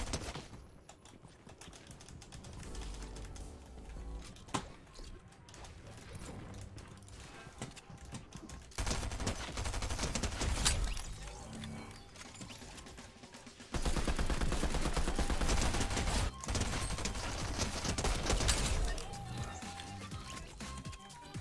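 Rapid SMG fire in the video game Fortnite rattles out in dense bursts over a busy, continuous game soundscape, with louder stretches of sustained shooting partway through.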